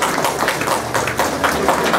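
An audience at a primary school graduation ceremony claps in a dense, fairly close burst of applause, with a faint voice somewhere beneath the patter.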